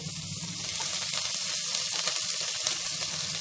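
Crushed garlic and green chili pieces frying in hot oil for a sour bottle-gourd curry, giving a steady close sizzle that holds at an even level throughout with no talking.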